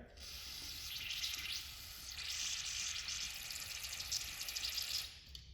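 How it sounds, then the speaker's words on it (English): Two long hissing bursts of carburetor cleaner aerosol spray into a Toro CCR snowblower, close and steady, separated by a short pause. "go ahead and spray some carburetor cleaner down in there"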